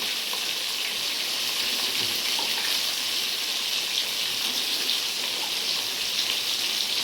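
Pieces of pointed gourd (potol) fry in hot oil in a pan, giving a loud, close, continuous sizzling hiss that holds evenly without voices.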